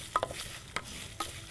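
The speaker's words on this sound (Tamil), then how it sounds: "கருவேப்பிலை, காஞ்ச மிளகாய், இதை போட்டு முதல்ல வதக்கிடும்." Curry leaves and dried red chillies sautéing in a pan, a soft steady sizzle broken by three sharp stirring scrapes spaced evenly apart, close and fairly quiet with no speech.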